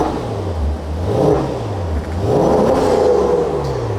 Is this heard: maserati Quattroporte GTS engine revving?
yes